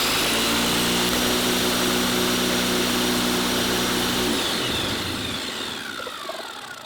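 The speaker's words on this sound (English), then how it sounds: "I just wanted to run the disc sander again." A homemade disc sander runs steadily and loudly for about four seconds, a dense whirring drone, then switches off and spins down, the noise fading away alone.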